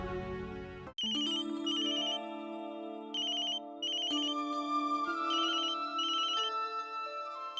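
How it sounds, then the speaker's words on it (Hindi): A mobile phone plays a melodic electronic ringtone, a bright repeating chime pattern over sustained tones, steady and close with no talking. "माँ का फोन है।"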